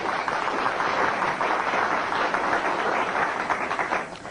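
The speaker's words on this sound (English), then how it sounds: "Let's give him a big round of applause," Applause from a crowd, dense steady clapping that holds for several seconds and then starts to fade.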